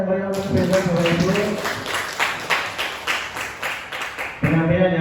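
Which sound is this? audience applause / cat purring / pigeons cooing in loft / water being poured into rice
audience applause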